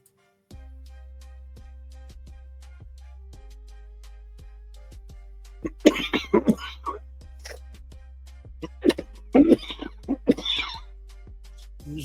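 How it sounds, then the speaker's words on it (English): A man coughs a few times close to the microphone, short harsh bursts in the middle of the clip, with a steady low hum running underneath. "Didn't mean to cough in your ear by any means."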